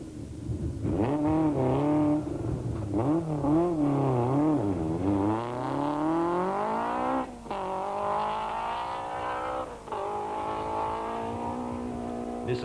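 A Nissan Sentra rally car at the 1993 Tour de Total, its engine revving loud and close through stage turns, pitch climbing and dropping in repeated sweeps with brief dips between gear changes.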